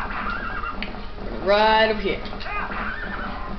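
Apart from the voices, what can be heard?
horse neighing and galloping in Zelda: Twilight Princess video game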